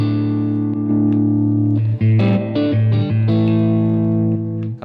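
Electric guitar played through a Blackstar AMPED 1 100-watt power pedal with built-in delay and boost engaged, sustained distorted chords and a few changing notes ringing with delay trails, loud and close with no talk.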